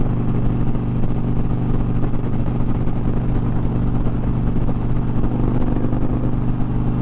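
Continuous loud engine drone and wind rush from an Indian Challenger motorcycle while riding, steady throughout with no speech.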